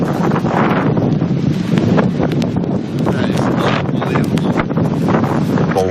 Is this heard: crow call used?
no